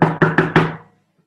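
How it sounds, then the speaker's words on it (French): Four quick, firm knocks land on a wooden door in close succession, loud and near, then fade into silence. "on frappe à la porte"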